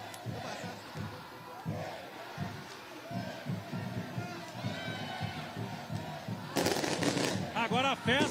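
Fireworks crackle at an airport welcome celebration for Atlético footballer Bernard. A cheering crowd and talking voices fill the scene before a loud burst of rapid pops and bangs erupts near the end.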